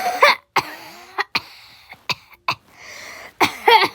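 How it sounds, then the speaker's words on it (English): Several sharp, separate coughs burst out in quick succession, close and fairly loud, with short quiet gaps between them. "Whoever doesn't cough wins."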